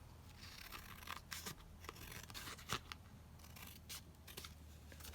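Scissors cut through card for a craft pocket in a string of close, crisp snips and rasping slices, fairly quiet and with no talk.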